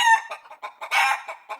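A voice imitates a rooster, giving a short run of clucks and a strained cock-a-doodle crow, loud and close.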